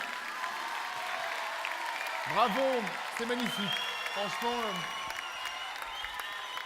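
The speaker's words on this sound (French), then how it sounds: "On applaudit très fort Surya." Applause at an afternoon ceremony, a steady wash of clapping from the hall that runs the whole time beneath a speaker's voice talking over it.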